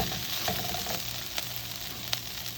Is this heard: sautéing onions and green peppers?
yes